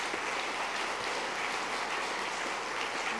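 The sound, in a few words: audience applause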